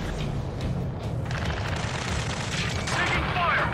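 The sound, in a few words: gunfire in the video game Ace Combat 7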